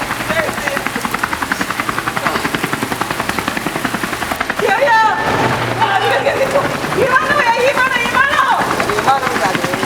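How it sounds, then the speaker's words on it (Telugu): A helicopter flying over a stage drama scene, its rotor thumping steadily throughout while rain-like noise and voices come in during the second half. "విమానం కాదు, హెలికాప్టర్."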